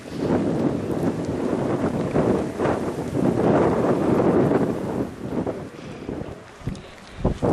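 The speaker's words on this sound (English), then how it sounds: "Oh, look at the gusts." Strong wind roars across the microphone in heavy, buffeting gusts in Tierra del Fuego National Park, Patagonia, loud and continuous, with brief dips before surging again.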